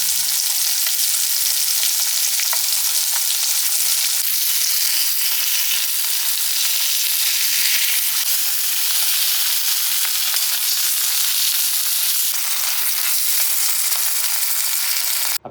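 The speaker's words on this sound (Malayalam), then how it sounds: "ഈ വെളിച്ചെണ്ണയിൽ നമ്മൾ വറുക്കണം" Diced jackfruit pieces fry in coconut oil, giving a steady, loud, close sizzle of crackling oil with no break for the whole stretch and nobody speaking.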